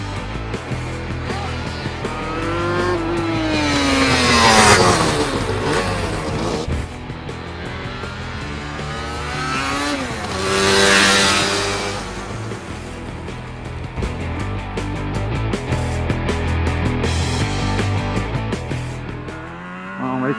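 A motorcycle with a CF Moto engine idles steadily and is revved up hard twice, each rise and fall in pitch clear and close, with a steady engine rumble between the bursts.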